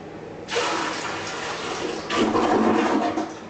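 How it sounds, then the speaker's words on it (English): A household toilet flushing to empty the bowl before removal, a steady loud rush of water that swells again partway through, heard alone and close. "Now that's been flushed, there's almost no water down there."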